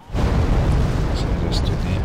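Artillery in Wargame Airland Battle lands as a heavy, rumbling boom that kicks in abruptly and keeps churning low and loud, with a few faint crackles on top.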